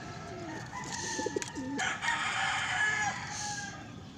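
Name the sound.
pigeon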